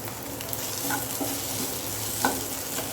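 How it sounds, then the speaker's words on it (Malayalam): Potatoes frying in a pan for poha as curry leaves go in, giving a steady close sizzle with a few brief crackles and light stirring scrapes. "ഇതിനകത്തോട്ട് നമുക്ക് കുറച്ച് കറിവേപ്പില ഇട്ട് കൊടുക്കാം"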